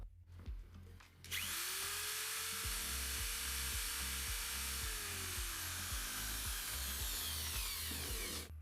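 Electric drill powered from an inverter, whirring loudly and steadily after a brief start, with a rising then falling pitch and intermittent grinding into wood, no talk.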